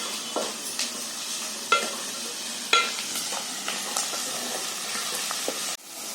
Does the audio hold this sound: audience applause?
no